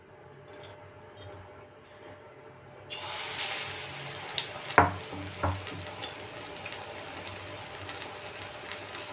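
Pumpkin flower fritters coated in gram-flour batter drop into hot oil, setting off a broad, steady sizzle after a quiet start, with a few sharper crackles and spatters as frying continues.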